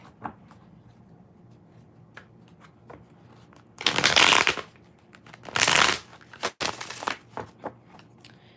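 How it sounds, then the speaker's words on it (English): Tarot deck being shuffled by hand, two loud riffling bursts followed by shorter snaps and taps of the cards, close up with no speech. "Five shuffles"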